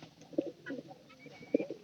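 A pigeon coos close by in short, soft throaty bursts, two stronger calls standing out among quieter murmurs against a calm background.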